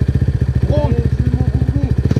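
250 Raptor quad engine running on muddy ground, a steady close pulsing thrum with rhythmic firing beats, voices briefly calling out over the engine.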